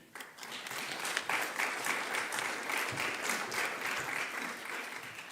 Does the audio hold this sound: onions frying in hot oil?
no